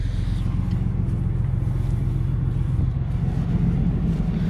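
Chevrolet Nova SS or Camaro SS exhaust idling with a deep, steady low rumble, loud and close throughout, with no voices over it.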